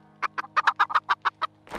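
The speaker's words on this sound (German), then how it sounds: "den Hühnern überlassen wir eines der letzten Worte" Chickens in the video game Undead Legacy, a close, loud series of about nine clucking calls in quick, uneven rhythm over a low steady hum.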